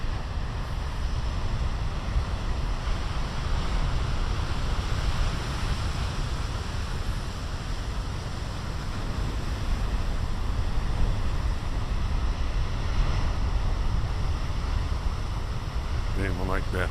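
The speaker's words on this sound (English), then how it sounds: "Okay, I see some waves." Big ocean surf roars steadily for the whole stretch, a dense, continuous wash of breaking waves mixed with wind buffeting the microphone and no distinct single breaks.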